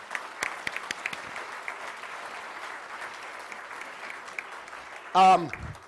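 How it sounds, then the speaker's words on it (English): A crowd applauds steadily with dense, sustained clapping, then a voice briefly cuts in near the end. "let's give ourselves a round of applause"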